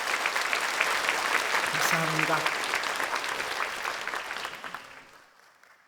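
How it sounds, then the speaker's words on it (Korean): A church congregation applauds warmly during a worship service, dense sustained clapping that fills the room and fades out toward the end, with a brief spoken thanks over it. "따뜻하게 한번 격려의 박수 한번 쳐주시면"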